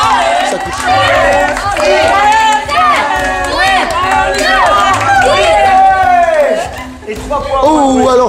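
A loud outdoor crowd at a summer camp event cheers and applauds a contestant for doing ten push-ups. Excited shouting voices overlap with clapping in a dense, continuous roar.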